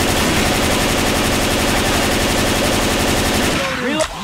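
Continuous loud automatic gunfire in the Left 4 Dead 2 Hard Rain level, a dense rapid rattle that holds for about three and a half seconds before breaking off into scattered sounds.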